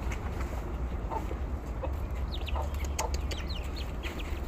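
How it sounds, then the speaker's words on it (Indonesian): Native village chickens cluck in short, scattered bursts over a steady low rumble of outdoor noise beside a house, a few birds calling at moderate distance. "Dia ayam kampung teman-teman."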